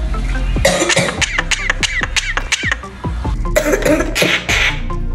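A talking myna bird imitates a human cough, giving a quick run of sharp, squawky bursts followed by rougher, noisier coughing sounds, all close and fairly loud with no talking.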